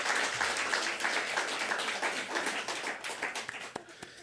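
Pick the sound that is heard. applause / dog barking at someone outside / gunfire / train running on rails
applause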